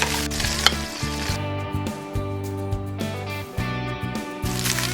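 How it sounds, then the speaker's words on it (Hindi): Capsicum and paneer stir-fry in a hot pan, a continuous sizzle with stirring scrapes heard under steady background music. "शिमला मिर्च है, इनको हम स्टर फ्राई कर लेंगे और साथ में जो पनीर है इसको भी स्टर फ्राई करेंगे"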